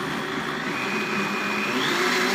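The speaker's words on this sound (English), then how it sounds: "You're going to put the lid on the blender, and you're going to let this go for 30 seconds." A blender running with its lid on, a loud, steady motor whir with a high whine that holds through the clip, alone without talk.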